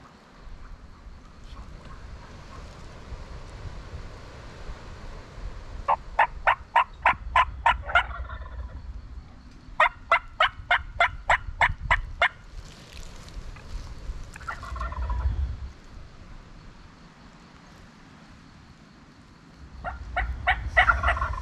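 A wild tom turkey gobbles in rapid bursts of sharp rattling notes, loud and close, repeating in three separate volleys with quieter outdoor background between.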